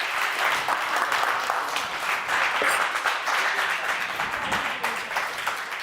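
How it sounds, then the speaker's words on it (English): Audience applause at a panel session fills the room, dense and even, steady clapping from many hands lasting several seconds with faint voices underneath. "A round of applause for her as we continue our conversation with Federico."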